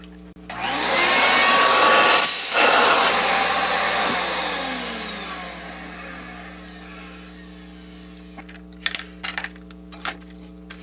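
A power drill whirs loudly for several seconds at a workbench while model railroad scenery is built, winding down slowly, followed by a few faint clicks.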